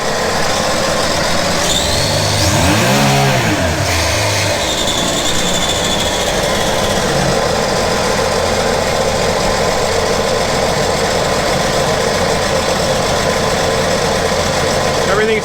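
Engine of a 2014 Sea-Doo GTX 215 personal watercraft revving up early with a rising, wavering pitch, then settling into a steady loud drone that runs throughout, heard close.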